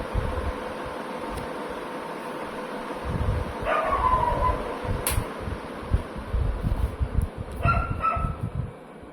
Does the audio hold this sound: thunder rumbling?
no